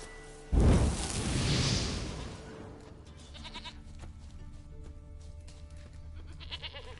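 A goat bleats in the video game The Witcher 3, with a few faint bleats heard later behind a loud whooshing burst and low ambient game sounds.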